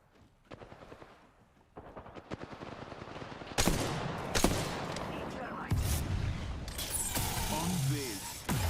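Rapid video-game gunfire in an aerial dogfight, bursts of machine-gun fire growing louder and denser through the clip, mixed with game effects and a voice talking over it.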